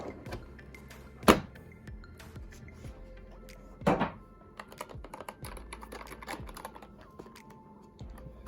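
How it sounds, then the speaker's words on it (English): Unboxing a computer keyboard for a first PC build: steady light clicking, rustling and handling of the keyboard and packaging, with two sharper knocks and small clatters throughout, close by and without talk. "This is the unboxing of the keyboard"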